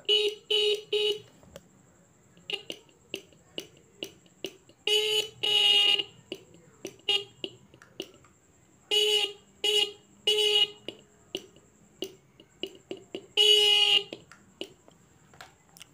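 The horn of an electric bike fitted with a 48V 750W motor kit sounds as a shrill electronic beep, pressed repeatedly in short taps and longer blasts with irregular gaps, close and clear.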